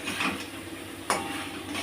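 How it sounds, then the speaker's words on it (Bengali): A utensil stirs cauliflower and peas in a pan with soft scraping and one sharp clink against the metal, over a faint sizzle, no talking. "দিয়ে এবার আমি একটু হালকা করে নেড়ে নেবো।"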